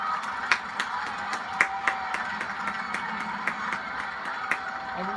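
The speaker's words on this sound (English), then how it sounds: "everybody clapping for us" Crowd clapping in the Roller Coaster Tycoon game, a steady patter of many hands with sharper individual claps standing out at irregular intervals under a busy background hum.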